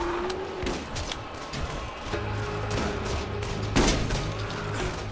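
An enemy's gunfire in Borderlands comes as several sharp cracks and bursts spread over a few seconds over a constant mechanical hum, with one louder shot near the end.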